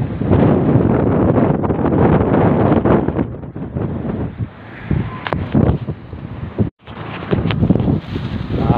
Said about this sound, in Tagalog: Dito lang kasi malakas ang hangin oh.